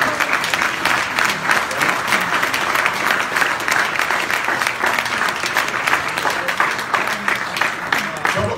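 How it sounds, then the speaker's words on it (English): A large audience at a motivational talk stands and applauds, steady, dense clapping at a lively level throughout, with a murmur of crowd voices mixed in beneath the hands. "Let's give a big round of applause."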